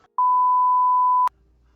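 A single steady electronic phone-call beep sounds clearly for about a second, alone with no talking, then cuts off abruptly to quiet.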